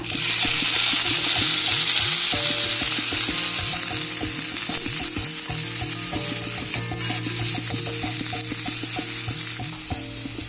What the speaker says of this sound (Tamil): இப்போ நான் பொடியை நறுக்கி வச்சிருக்க பப்பாயக்காய் இது கூட போட்டு நல்லா வதக்கிக்கலாங்க.